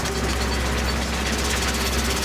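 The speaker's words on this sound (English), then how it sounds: "You can hear the farmers coming past again in his tractor" A farmer's tractor passing near farmland, its engine giving a continuous, even, chugging drone at moderate loudness with no breaks and no talking.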